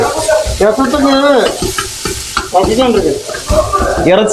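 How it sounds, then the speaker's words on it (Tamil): Meat frying in a pan while being stirred, a loud close sizzle with repeated scraping stirs, overlaid by a melodic voice singing or calling in the background. "இறைச்சி ஃப்ரை பண்ணதுக்கு வந்து நல்லா கிண்டி"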